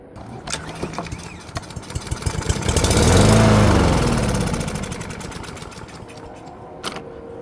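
A brand-new lawn mower engine briefly fires on sprayed brake cleaner, a rough chugging rising into a loud, surging run for a few seconds, then fading back down to sputters.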